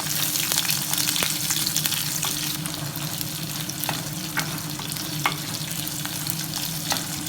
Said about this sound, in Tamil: வெட்டி வச்சிருந்த வெங்காயம் எல்லாத்தையும் போட்டு நல்லா வதக்கணும்